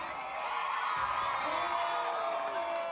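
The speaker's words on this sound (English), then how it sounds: "Spectators cheered with applause and laughter as Venezuelan Olympic medalist Daniel Diaz flied with his bike" Spectators in a Venezuelan neighborhood whoop and cheer as an Olympic medalist cyclist performs bike stunts, a moderately distant crowd roar sustained for a few seconds without clear speech.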